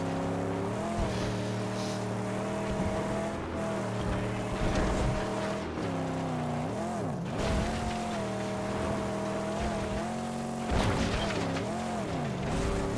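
A car engine in the Mad Max game revs and drones continuously, its pitch rising and falling as it accelerates and shifts, with tires scraping over rough ground and no talking.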